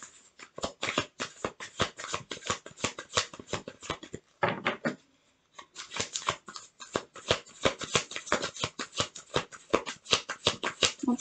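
Tarot cards are shuffled by hand in quick, crisp riffling bursts, a dense rapid patter close up with a short pause midway, with no talking.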